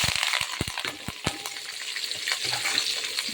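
Curry leaves, onion and green chili fry in oil for lemon rice, a close, steady sizzle broken by sharp spatters and a few knocks of the spoon against the pan.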